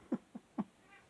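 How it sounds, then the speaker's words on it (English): A house cat gives three short, soft meows in quick succession, close to the listener, before a quiet pause. "My cat Bunny is meowing like crazy"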